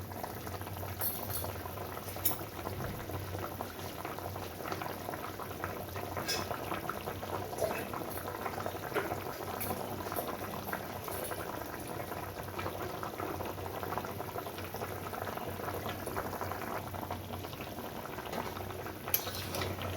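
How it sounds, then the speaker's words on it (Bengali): Thin hilsa fish curry with eggplant boiling hard on a high gas flame, a continuous close bubbling and gurgling of simmering broth with small pops, no voices. "দেখুন ঝোলটা কি সুন্দর ফুটছে"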